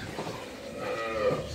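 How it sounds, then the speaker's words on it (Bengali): A young heifer calf on a dairy farm gives a drawn-out moo that rises and wavers, close and clear over quiet background. "এটা হচ্ছে বকনা বাছুর"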